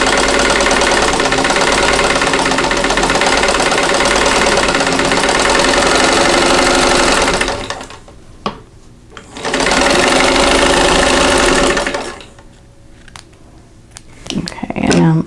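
Sewing machine stitching a seam on a quilt block, a loud steady rapid whir for about seven seconds, a short pause, then another burst of stitching before stopping, with faint handling noises between runs.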